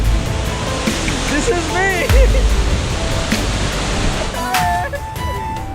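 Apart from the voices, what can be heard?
waterfall rushing in Dalhousie, Himachal Pradesh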